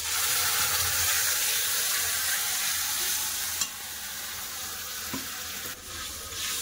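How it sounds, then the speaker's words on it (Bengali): Ground spice paste goes into onions frying in a pan, a steady sizzling hiss that drops suddenly in level, followed by quieter frying with a couple of soft scraping knocks. "এবার বেটে রাখা মশলা দিয়ে দেবো।"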